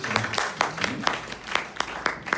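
A church congregation claps in welcome after a baptism certificate is read, a few distinct, fairly close hand claps in an uneven rhythm rather than a full ovation.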